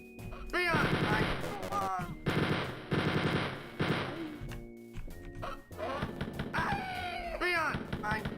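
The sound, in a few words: gunfire from video game Spear of Destiny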